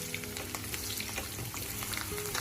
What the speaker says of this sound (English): Then add the potatoes to fry.